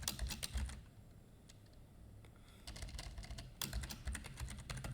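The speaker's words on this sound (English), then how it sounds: "And then I'll just type" Someone types quickly on a computer keyboard in two bursts of rapid clicking, separated by a short quiet pause, heard close and fairly soft with no talking.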